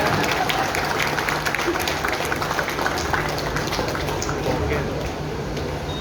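Audience applause following a speech by the mayor of Batam, dense and steady clapping from a large crowd that holds throughout and eases slightly toward the end, with a voice faintly underneath.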